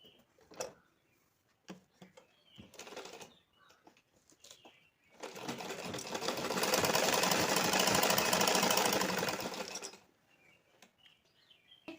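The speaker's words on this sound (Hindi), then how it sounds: "मोड़ने के बाद यहाँ पर मशीन चलाएंगे, कच्ची सिलाई करेंगे" A sewing machine runs a long basting stitch on a blouse hem in one steady, loud burst lasting several seconds, framed before and after by scattered handling clicks and rustles.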